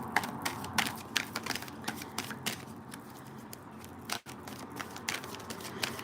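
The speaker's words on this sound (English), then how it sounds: "I'll just shuffle my cards" A deck of tarot cards shuffled by hand up close, with a steady run of crisp, rapid clicks and soft riffling, broken by one brief pause near the end.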